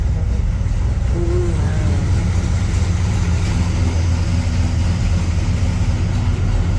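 A 1965 Chevrolet Impala engine idles steadily and slightly rich with a constant low rumble throughout, close by and unchanging.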